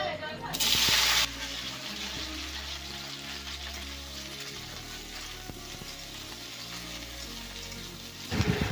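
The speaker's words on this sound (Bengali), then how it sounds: "এবার ভেন্ডিটাকে ভেজে নেব" Sliced okra drops into hot mustard-oil in a kadai, setting off a loud sizzling burst at the start, then a quieter crackle under steady background music. A fresh surge of sizzle rises again at the very end.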